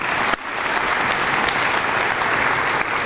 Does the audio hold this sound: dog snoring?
no